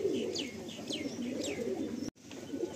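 Pigeons at a pigeon sale near New Garia railway station in Kolkata coo in low repeated throaty calls, with scattered higher chirps overhead, close by and steady, cut briefly by a gap near the end.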